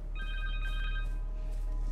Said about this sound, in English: Pick that. Connor's cell phone.